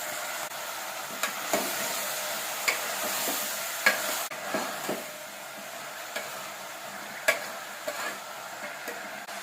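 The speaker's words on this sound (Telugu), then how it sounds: "వీటిని గోరు చిక్కుడుకాయలు లేదా మట్టికాయలు అని అంటారండి వీటిని ఆయిల్లో వేసుకున్నాం" Cluster beans fry in hot oil with a continuous close hiss, punctuated by regular sharp clicks and scrapes of a spatula stirring the pan, with no talking.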